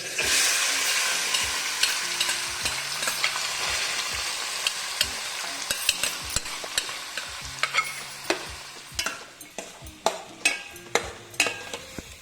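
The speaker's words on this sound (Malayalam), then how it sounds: "ചെറുതായിട്ടൊന്ന് ആ നെയ്യിലൊന്ന് ഇളക്കി കൊടുത്തതിന് ശേഷം" Chopped fruit stirred in hot ghee for an Onam payasam, a loud steady sizzle with a spoon scraping and tapping the pan in quickening strokes near the end, no voices.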